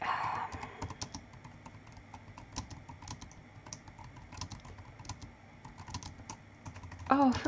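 Rapid, irregular clatter of typing on a computer keyboard, close and fairly quiet, running steadily throughout with a louder burst near the end.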